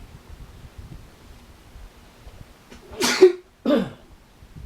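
A single sharp sneeze bursts out after a quiet stretch, followed by a brief breathy exhale, close to the listener.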